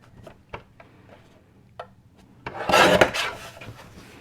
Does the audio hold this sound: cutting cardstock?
yes